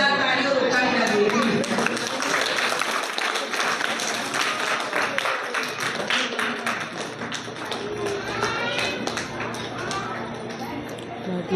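A crowd claps loudly and steadily to welcome a corporator at a foundation's service event at an Anganwadi centre, with dense, sustained applause and some voices underneath.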